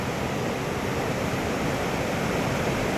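Dense, unbroken roar of the Aklan River's rushing water, loud and close, a constant wash with no voices over it.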